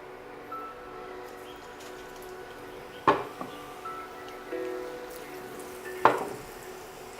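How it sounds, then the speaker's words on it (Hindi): Pieces of leftover roti coated in besan fry in hot oil over a medium flame, giving a low, even sizzle with two sharp utensil clinks. No one speaks. "अब यहाँ ना फ्राई करने वास्ते अपन तेल गर्म हो गया है"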